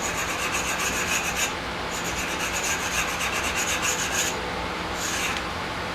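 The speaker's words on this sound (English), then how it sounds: "I can use either one of these to like stone my chuck or whatever" A sharpening stone rubbed back and forth across the chuck of a Boyar Schultz Challenger Deluxe 2A surface grinder to knock off burrs, giving steady rasping strokes in bursts with short pauses, close and fairly loud.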